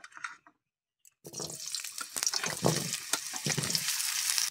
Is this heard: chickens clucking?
no